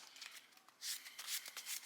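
Yu-Gi-Oh cards in protective sleeves are shuffled by hand, giving soft, quick riffling bursts in close succession, quiet and close with no talking.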